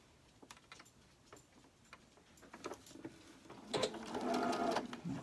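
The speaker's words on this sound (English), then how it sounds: "I'm going to sew 1/4 inch all the way around the fabric." A sewing machine runs a quarter-inch seam around pinned fabric pieces for half square triangles, starting with light scattered ticks and clicks, then building into a steady, louder motor whir near the end.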